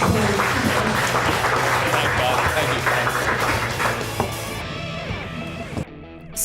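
At a Startup Grind Johannesburg event, a crowd gives a full round of applause, a dense clatter of many hands that gradually thins out before a brief pause, with voices mixed into the room noise.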